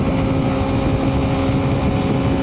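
A Honda 125cc motorcycle engine drones steadily under heavy load at about 110 km/h while tucked behind a truck on the highway, a constant loud hum mixed with rushing wind buffeting the microphone.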